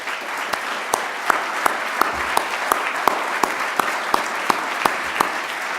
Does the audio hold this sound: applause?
yes